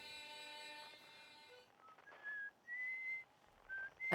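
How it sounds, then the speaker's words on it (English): Someone whistling a few sustained, clear notes with short gaps between them, faint and distant as if picked up through the signal scope in the space game Outer Wilds, following a fading harmonica-like tone. "That's someone whistling."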